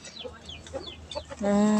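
A chicken clucks in short, repeated bursts, near and moderately loud, over low background noise, and ends on a longer sustained call.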